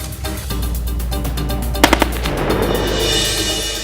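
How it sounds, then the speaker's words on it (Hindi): Sudden enemy gunfire at an Indo-Tibetan Border Police post in a Hindi film: rapid rattling bursts of automatic fire, loud and close, with a few sharp single shots cracking in the middle. "पोस्ट पर अचानक दुश्मन की गोलीबारी।"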